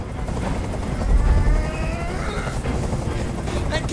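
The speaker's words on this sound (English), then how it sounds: "I can't stand that noise anymore! Tell that helicopter to get out of here!" A hovering helicopter in the video game Detroit: Become Human fills the scene with a steady, dense rotor roar and rumble, continuous and close throughout with no voices.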